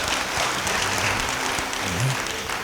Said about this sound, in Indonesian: Kasih tepuk tangan yang baik.